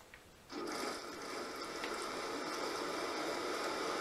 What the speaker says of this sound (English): The water gets drained.